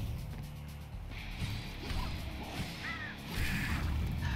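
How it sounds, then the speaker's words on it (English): Birds cawing in the dark fantasy action game Slain: Back from Hell, harsh squawks mixed with game impacts, swooshes and a steady background music bed. "I hate those birds."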